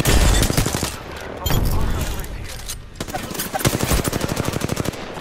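Rapid automatic gunfire from a video game crackles in dense bursts, pausing briefly then resuming in sustained volleys, with a voice talking over the shooting.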